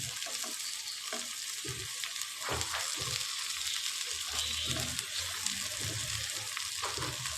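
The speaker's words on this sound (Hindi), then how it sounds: "इसको भी हम प्याज के साथ ही फ्राई करेंगे।" Okra (bhindi) fries alongside onions in a pan for a spiced sabzi: a constant close sizzling hiss broken by repeated scraping and stirring strokes.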